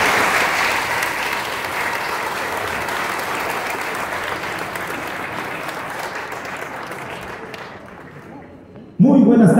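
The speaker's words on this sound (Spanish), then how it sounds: "fuertes los aplausos para nuestro presidente municipal" Steady applause from an audience at a municipal government report event in a hall, continuous clapping for about nine seconds before fading, then a voice begins speaking.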